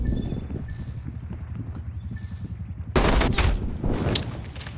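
Shotgun fire in Call of Duty Black Ops Cold War multiplayer, heard as a loud burst of sharp blasts that cuts in after quieter footstep-like background and keeps going to the end.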